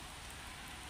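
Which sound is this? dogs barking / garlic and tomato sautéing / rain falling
rain falling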